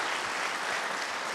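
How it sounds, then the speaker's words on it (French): Steady, dense applause from an awards-ceremony audience at the Prix Audiberti literary prize, a continuous wash of many hands clapping at even loudness throughout, with no voices over it. "je vous demande de les applaudir tous"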